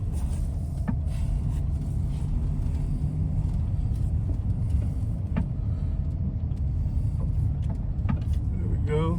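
A car rounding a roundabout, its engine and road rumble steady and close throughout, with wind buffeting the microphone and a few faint knocks.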